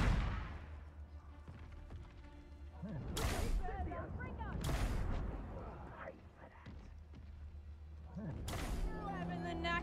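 Spell blasts in the video game Hogwarts Legacy, three sharp explosive bursts each trailing into a crackling, ringing decay, with faint game ambience between them.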